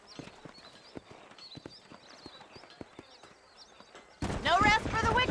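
Horse hooves clip-clop in Red Dead Redemption, a steady string of distinct moderately close hoofbeats with faint bird-like chirps, then a voice starts talking loudly near the end.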